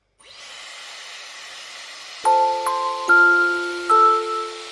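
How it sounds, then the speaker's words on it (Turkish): A handheld hair dryer blows steadily during home blow-drying of hair, a loud continuous airy whir that shifts pitch several times as it is moved, with no talking. "Buraya nasıl çeksem acaba fönü?"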